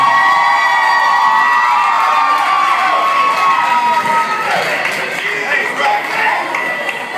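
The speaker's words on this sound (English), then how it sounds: "Another big super round of applause for Jessica and Jeff." Audience cheering and applause for a couple after a proposal fill the space with a loud, dense crowd roar and whoops that slowly ease toward the end.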